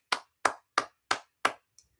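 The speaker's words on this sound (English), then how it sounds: "give Slayer a round of applause on that" Five sharp, evenly spaced hand claps ring out close and dry, followed by a faint sixth tap, from a lone person clapping at a steady pace.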